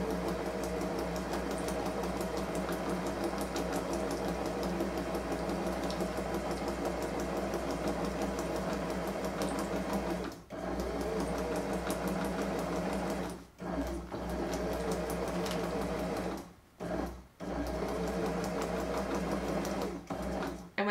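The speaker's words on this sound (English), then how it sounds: "make sure your hands can keep up with the pace of how the sewing machine is moving" A sewing machine runs steadily with rapid, even stitching clatter, pausing briefly a few times before resuming at the same fast pace.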